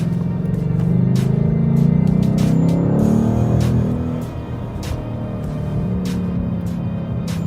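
Interior of a 2018 Ford Mustang in Sport Plus mode, with a steady low engine drone that swells and eases as the transmission shifts down on its own, loud and continuous throughout.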